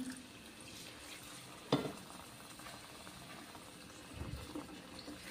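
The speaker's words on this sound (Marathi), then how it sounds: "तर यामध्ये आता आपण घालतोय थोडंसं पाणी" Water poured into a pan of paneer masala gravy, a soft steady sizzle and bubbling with a sharp splash near the start and a brief stir later, fairly quiet and close.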